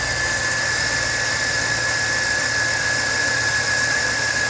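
A 2006 GM car engine runs steadily after an alternator replacement, a continuous close idle hum with a thin high whine or squeal held over it the whole time.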